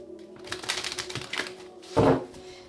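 A tarot deck shuffled by hand, a short burst of riffling card flutter and soft slaps ending in a louder snap as the cards come together, close and fairly quiet.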